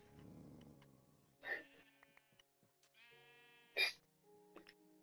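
Sheep in the Minecraft video game bleat twice in short, clear bursts, with quieter game sounds between the cries.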